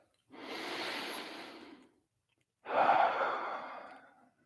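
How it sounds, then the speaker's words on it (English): Two slow, deep breaths close to the mic during a calm meditation, a long airy inhale followed after a short pause by a fuller exhale, soft and unhurried with no talking. "Take another deep breath"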